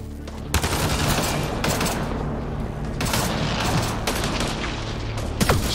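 Gunfire in the video game Mass Effect: Andromeda, with several loud sharp shots and bursts over a dense, continuous battle rumble, close and intense throughout.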